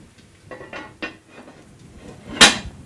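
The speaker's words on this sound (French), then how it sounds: "Et là, je mets juste un couvercle, comme ça, tout simplement." A lid goes onto a cooking pot of onions and small chestnuts: a few soft clinks and knocks, then one sharp metallic clank as it settles, close and without talk.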